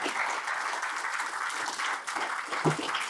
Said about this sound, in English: let's give a big round of applause for all three of them plus Vishal for taking that initiative